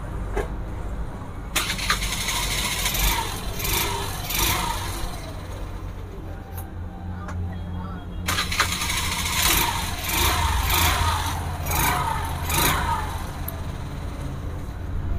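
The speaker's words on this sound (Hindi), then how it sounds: "अब स्टार्ट कर रहा हूँ बाइक को," A Hero Duet scooter's electric self-starter cranks in bursts after a chamber refit, and the engine catches into a steady running hum. Mechanical clatter and light background noise sit underneath.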